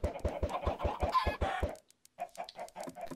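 Rapid, rhythmic clucking of Minecraft video game chickens, close and fairly loud, with a brief pause before more scattered clucks resume.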